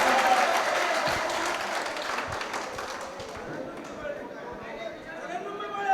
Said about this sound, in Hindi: हिमांशी बाबरा के लिए जोरदार तालियां।